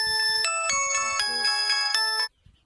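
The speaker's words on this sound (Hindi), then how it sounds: "कॉलें बहुत ज़्यादा आ रही हैं मोबाइल में और वो भी मेरा ख्याल है वीडियो में ऐड हो रही हैं।" A mobile phone ringtone plays for incoming calls, a loud bright melodic chime of repeated tones lasting about two seconds before cutting off abruptly.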